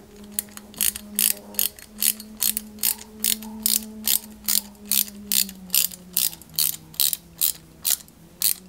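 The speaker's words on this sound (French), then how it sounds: "on y met deux vis ABM pour consolider le tout entre elles" Small screws being driven into the engine of a 1/8 scale Ferrari 330 P4 model give a rapid, steady run of close ratcheting clicks from a screwdriver, with a faint whine beneath and no talking.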